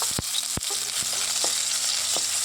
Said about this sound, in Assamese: নহৰুখিনি অলপ ৰঙচুৱাকৈ ভাজি ল'ম।